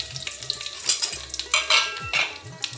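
Whole spices (a bay leaf, two dried red chillies, cumin, cinnamon, cardamom and three cloves) sizzle in hot oil for a Shahi Paneer, while a metal spoon scrapes and clinks against the pan in quick, uneven strokes close up.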